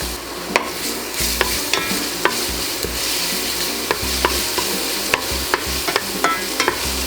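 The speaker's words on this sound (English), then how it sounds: "next we're basically gonna fry everything together" Garlic frying in olive oil in a pan, with a steady soft sizzle throughout and repeated sharp scraping clicks from stirring, close and alone with no talk.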